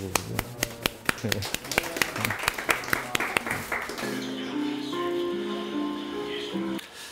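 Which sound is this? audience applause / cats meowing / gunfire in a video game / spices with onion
audience applause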